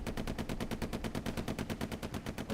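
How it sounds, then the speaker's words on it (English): Rapid automatic gunfire rattles in a video game tank battle, a steady, evenly spaced stream of sharp shots, loud and close with no talk over it. "We've got a tank battle."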